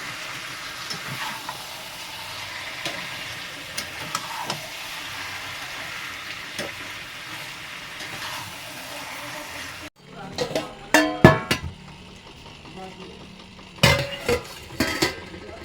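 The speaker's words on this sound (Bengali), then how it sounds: "তারপরে এটা কষা করবো সেখানে।" Marinated meat being fried and stirred in a pan for kosha mangsho: a steady close sizzle and hiss at first, then a quieter stretch broken by several sharp clanks and scrapes of a spoon against the pan.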